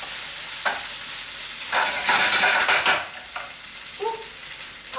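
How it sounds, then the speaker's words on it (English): Chorizo frying in a pan keeps up a constant sizzle while a spoon stirs it, adding a few scraping bursts. One longer stir stands out among brief strokes, all heard close. "I'm going to stir my chorizo as well."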